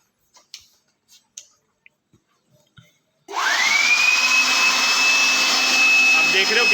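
Several small clicks and taps come first, then an electric air blower used as a vacuum cleaner to suck dust off a TV stand starts abruptly with a loud, steady whine and roar that holds to the end.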